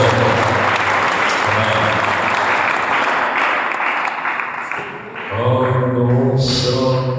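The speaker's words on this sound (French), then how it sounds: "On applaudit le Seigneur, on applaudit le Seigneur." A church congregation applauds, a dense clapping that dips briefly before music and voices swell back in underneath.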